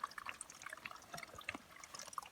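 Water trickles and splashes through a Platypus gravity water filter at a backpacking camp on North Manitou Island, a soft, steady close-up dribble with small drips, faint and alone without talk.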